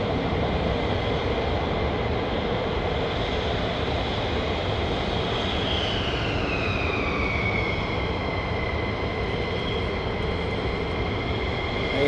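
F-15E Strike Eagle fighter jets of the 492nd Fighter Squadron at RAF Lakenheath give a loud, steady jet roar lasting throughout, with a whining engine tone that shifts in pitch midway as the aircraft passes.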